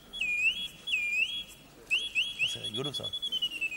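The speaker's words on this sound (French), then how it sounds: "fabrique aussi des oiseaux sifflants." A small silver singing bird box whistles in bright, looping trills and chirps, repeated in several bursts close by, while people talk over it.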